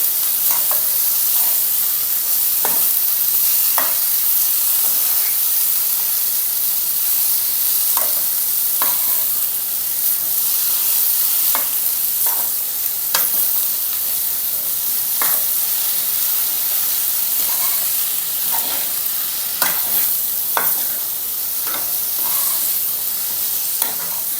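Ghevda beans stir-fried in a pan for a traditional Marathi bhaji, a loud continuous sizzle and hiss with regular scraping spatula strokes recurring every second or two, close and steady for the whole stretch.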